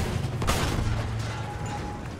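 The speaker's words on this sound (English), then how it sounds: "Boom! Oh, big explosions." Heavy booming blasts and rumbling gunfire erupt together in the video game Battlefield 1, a loud burst of explosions that keeps rolling with dense low thunder.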